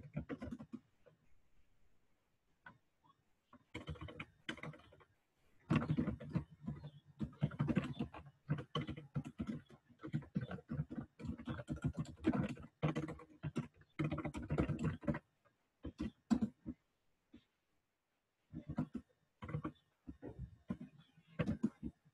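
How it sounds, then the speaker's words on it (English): Rapid, irregular clatter of keys on a computer keyboard, close and fairly quiet, coming in dense bursts with brief pauses and no talking. "Sorry that everyone has to hear me typing."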